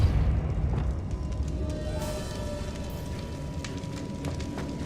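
A Depulso spell is cast in Hogwarts Legacy, a short burst with a booming, whooshing impact that fades under a steady game ambience, with no one talking over it.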